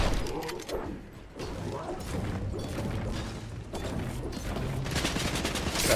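Rapid gunfire in Fortnite, repeated bursts of shots close by with mechanical clatter between them, continuing steadily over busy game sound and growing louder toward the end.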